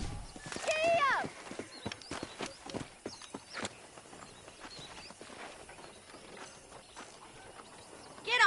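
A horse in a video game whinnies loudly, then its hooves clip-clop at a trot and gallop, a close, steady rhythmic beat of hoofbeats with occasional snorts.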